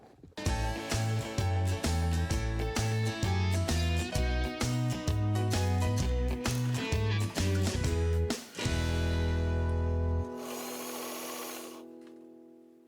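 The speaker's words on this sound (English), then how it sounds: "I'm going to see if sewing through 3 layers of this" Sewing machine stitching a hem through three layers of thin stretchy dress fabric: rapid rhythmic needle clatter in short bursts, each run speeding up and stopping, followed by a longer steady stitch run and a fading whir.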